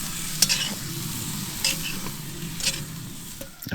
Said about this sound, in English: we're making stew, potatoes, carrots, some onions